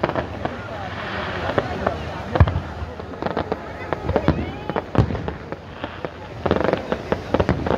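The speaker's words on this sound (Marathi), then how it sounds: "अप्रतिम अशी फटाक्यांची आतिषबाजी होत आहे।" Fireworks pop and crackle in rapid, irregular bursts from a distance, with crowd noise and voices underneath throughout, at the Kunkeshwar temple yatra festival.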